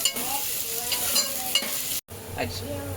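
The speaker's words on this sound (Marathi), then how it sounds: "आणि कांदा टाकलेला आहे, तर मस्त आपण लाल होऊ देऊ." Onions sizzling in a pan with curry leaves and chillies as they brown, a steady crackle with light stirring close by, briefly cut by a short silence.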